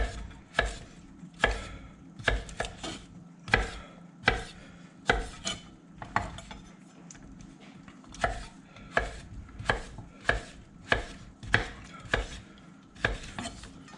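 A knife chops potato into even pieces on a board, giving sharp, regular thuds at a steady pace, close and clear with nobody talking.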